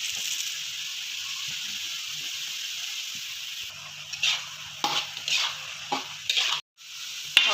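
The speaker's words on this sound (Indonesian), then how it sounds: "kita oseng-oseng seperti ini" Cabbage and instant fried noodles sizzle and hiss in a hot pan while a utensil scrapes and stirs in bursts, with occasional clinks of metal.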